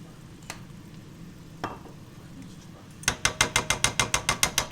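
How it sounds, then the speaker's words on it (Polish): Pumpkin curry with ginger, turmeric, garlic and soy sauce being stirred in a sizzling pan: a soft hiss with a few isolated scrapes, then a quick, regular series of close scraping strokes. "Mieszam wszystko."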